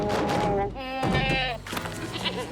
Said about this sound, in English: Of course, there's goats that show up.